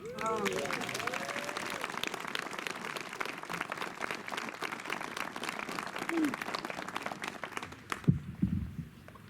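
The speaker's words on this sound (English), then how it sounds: "maybe we can offer him a round of applause wherever he is" Outdoor crowd at a memorial ribbon-cutting ceremony for Irish miners in Leadville claps steadily for several seconds, moderately distant and soft, then the clapping cuts off abruptly near the end as a voice resumes.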